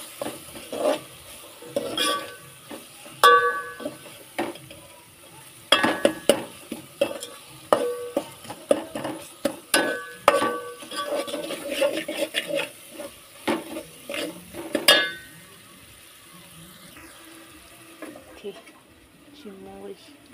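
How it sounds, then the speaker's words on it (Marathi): Tomato with turmeric and masala being stirred in a pan over heat for a crab curry, with repeated scraping and clinking of a utensil against the pan over a soft sizzle, close and busy, easing off toward the end. "नंतर टमाटर टाकून घेते. मसाला ते वगैरे टाकले, हळदी मसाला परतून घेते."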